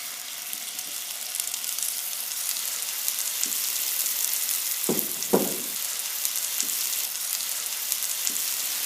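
Pieces of lamb dropped into shimmering hot extra virgin olive oil in a pan set up a steady, even sizzle, with a couple of louder spitting bursts about halfway through as the meat lands.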